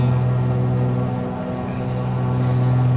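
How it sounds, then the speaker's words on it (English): A Beechcraft aircraft engine at 2500 RPM in climb drones loud and steady from inside the cabin, a constant low hum with no talk. "bring the engine back to 2500 RPM."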